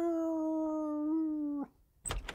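A dog howls in an animated film, one long, steady, loud tonal howl lasting over a second before cutting off, followed by a brief noisy scuffle.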